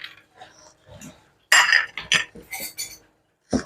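A spoon clinking and scraping against metal dishes while grilled prawns cook, a handful of sharp, close clatters in short clusters with quiet gaps, no talking.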